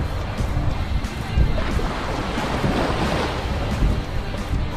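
Surf and breaking waves on the beach at Anna Maria Island roll in as a broad, continuous wash with gentle surges, close by and steady, roughened by wind buffeting the microphone.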